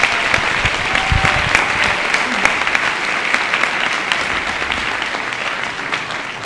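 Sustained audience applause for a high school symphonic band at a winter band concert, a dense, loud wash of clapping from many hands that holds steady throughout without pause.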